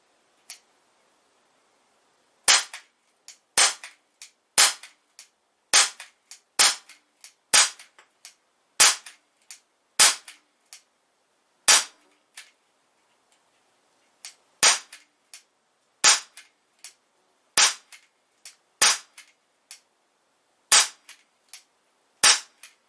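Umarex UX MCP CO2 BB pistol firing at a paper target, sharp snapping shots in a long irregular string, often in quick pairs with brief gaps, close and clear with no talk.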